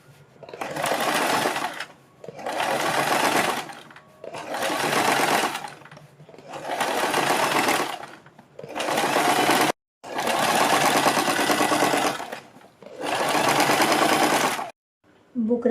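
A sewing machine runs stitching along the buckram around a kurti neck in seven steady bursts of about a second and a half each, with brief pauses between runs, close and loud with no talking.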